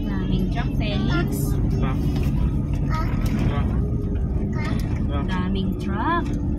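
Many heavy trucks pass on a highway under road construction, giving a steady, loud low rumble of traffic throughout, with voices chatting over it.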